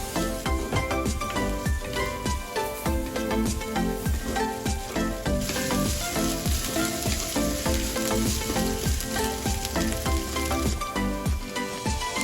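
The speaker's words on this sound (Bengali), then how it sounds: "কাঁচা গন্ধ চলে যাওয়া পর্যন্ত ভেজে নেব।" Onion, garlic, cumin and ginger paste fry steadily in a pan for chicken roast, giving a continuous loud sizzle with occasional stirring scrapes and no talking.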